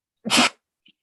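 A single sharp human sneeze bursts out close by, short and forceful, followed by a brief faint sniff.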